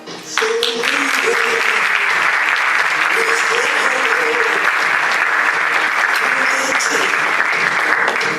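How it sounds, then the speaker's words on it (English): Loud, sustained audience applause fills a pageant hall, dense steady clapping from a large crowd with some voices and a few whoops mixed in, continuing without a break. "Put your hands together for Miss Northwestern's Rock Show."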